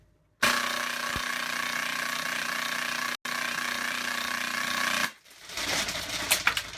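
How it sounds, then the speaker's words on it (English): Nerf Rhino-Fire airsoft conversion fires both barrels on full auto in a loud, steady buzzing burst, briefly interrupted once, then stops and gives way to faint clicks and handling noise. "And then I can really get crazy and turn them to full auto and have them fire at the same"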